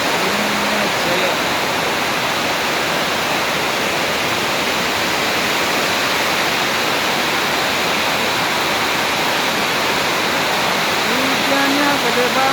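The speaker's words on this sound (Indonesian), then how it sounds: "Hujannya gede banget." Heavy rain pouring down around a bus transit shelter, a dense, steady roaring hiss that stays loud and even from start to finish with no pauses.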